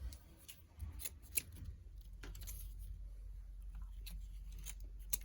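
Scissors snip the ribbon tails of a bow on a spring daisy floral swag, giving a few quick close cuts and rustles over a steady low hum.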